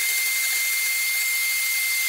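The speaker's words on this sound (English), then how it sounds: "Again, with clean whisk ends, whisk up the double cream." An electric whisk beating double cream for tiramisu, a continuous high steady whir with a fixed tone, close and alone.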